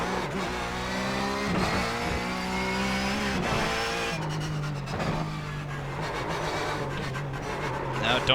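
Porsche 911 GT3 Cup race car in iRacing, engine droning steadily under throttle as the car slides, with shifts in pitch and faint tire scrubbing, continuous and loud throughout.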